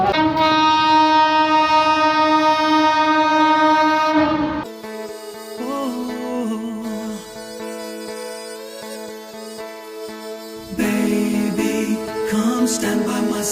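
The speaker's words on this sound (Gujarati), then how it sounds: "કન્ટિન્યુ બ્લોગમાં જો ટ્રેન આવે તમે જોઈ શકો." A passing train sounds its horn in long, loud, sustained blasts at the start and again near the end, with shifting tonal rail sounds between them.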